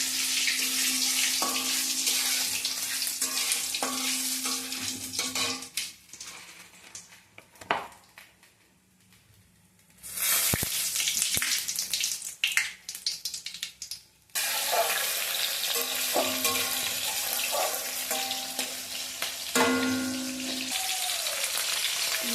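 Cumin, bay leaf, dried chilli and ginger paste frying in a pan give a steady loud sizzle with crackling, briefly dropping to near quiet midway before the hiss returns, with scattered kitchen clatter.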